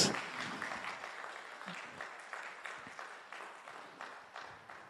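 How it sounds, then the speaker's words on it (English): Audience at a business quiz semi-final in Hyderabad claps to welcome a finalist, a moderately quiet patter of applause with rhythmic pulses that gradually fades, with faint talk in the background. "please welcome with a round of applause"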